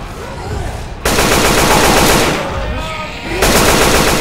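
Rapid automatic gunfire from a weapon in Left 4 Dead 2 on Expert Realism, loud and sustained bursts of close shots in two long volleys separated by a brief lull.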